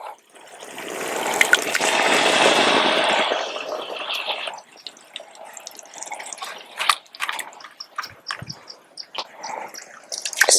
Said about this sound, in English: I'm going to just pour them here in my stew.